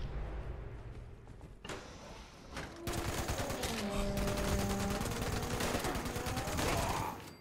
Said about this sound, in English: someone's obviously having fun with a rocket launcher